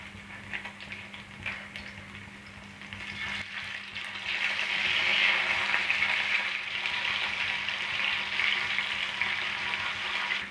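Fish fries village-style in oil on an iron tawa as it is turned over. A steady close sizzle swells louder and denser after the flip and holds there.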